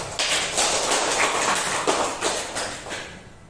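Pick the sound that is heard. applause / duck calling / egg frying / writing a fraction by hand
applause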